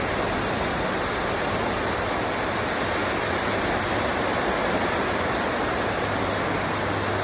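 Steady rain falls outdoors in a garden, a dense, even hiss at constant loudness throughout, with no voices.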